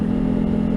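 A Honda CRF300 Rally single-cylinder motorcycle engine is held at a steady, loud rev, close up and alone, with a dense throbbing hum throughout the brief moment.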